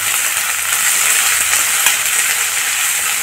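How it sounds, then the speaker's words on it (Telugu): Chopped onions hit hot oil in a pan for a Kadapa karam dosa masala, giving a loud, steady, close sizzle with a bright crackling hiss throughout and no voices. "ఉల్లిపాయ వేస్తున్నామండి."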